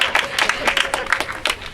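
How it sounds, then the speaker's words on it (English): Crowd clapping at a rally against pipelines on Indigenous land, a brief burst of irregular handclaps from a modest gathering, fairly close and lively. "give yourselves, a round of applause"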